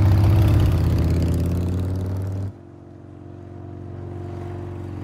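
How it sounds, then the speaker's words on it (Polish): A motorcycle engine in the Marvel's Spider-Man 2 video game idles with a low steady hum, then cuts off abruptly midway, leaving a quieter rumble that gradually swells again. "Ukradła od Tombstone'a motor"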